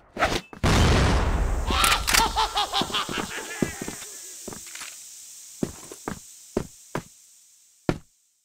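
In a first-person shooter, a grenade goes off with a loud, deep boom that rumbles and fades over a couple of seconds, followed by scattered sharp taps and footsteps.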